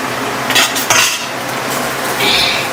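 A metal lid clanks against a cooking pot of pointed gourd and prawn curry, giving a few sharp clinks close up over a steady kitchen background, with no voices.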